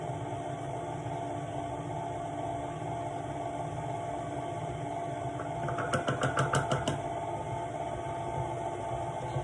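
A stand mixer kneads dough with no dough hook fitted. The motor hums steadily and faintly, then a quick run of rhythmic knocks and clatter comes about two thirds of the way through.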